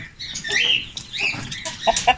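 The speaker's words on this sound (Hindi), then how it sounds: "एक मुर्गा 3 मुर्गियों के साथ।" A trio of two-year-old Light Sussex chickens, one rooster with three hens, giving short clucks and squawks in quick bursts, close and fairly faint, with a couple of sharper calls near the end.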